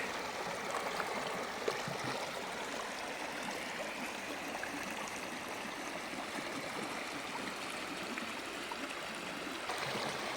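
A hill river flows before the monsoon in a continuous, even rush of water, with a dense churning texture and faint gurgles, and no voices are heard.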